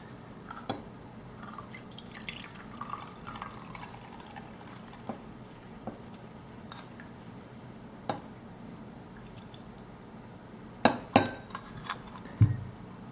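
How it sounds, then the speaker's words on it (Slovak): Coca-Cola is poured over old coins, giving a soft, close liquid trickle with scattered drips, then a few sharper clinks and splashes near the end. "Prelejeme si tu Coca-Colu."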